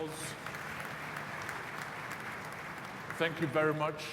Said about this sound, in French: Je crois qu'on doit l'applaudir encore un peu plus